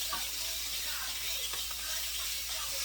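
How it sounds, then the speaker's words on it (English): Chicken breasts sizzle in a pan of chicken thighs for linguine Florentine, a soft, steady frying hiss that continues throughout. "You still get the same sizzle"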